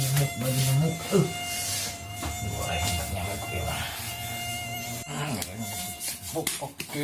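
Mosquito buzz in a Sundanese comedy short about a sleepless night, a steady high-pitched whine continuing throughout beneath people talking.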